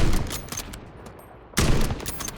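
Two loud, sharp Kar98k bolt-action rifle shots from Call of Duty: Warzone ring out about a second and a half apart, each with a crackling echo that decays quickly.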